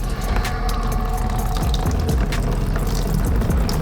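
Coolant water pouring steadily out of a 2018 Honda CBR 600RR during a flush, a continuous close splashing and trickling stream with no pauses.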